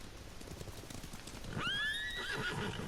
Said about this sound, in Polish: wciśnij lewy krzyżak, aby przywołać konia